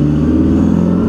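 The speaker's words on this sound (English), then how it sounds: "I do like the sound of that Mustang." A Ford Mustang engine revs loud and close, a deep steady rumbling drone lasting about a second, with no voices over it.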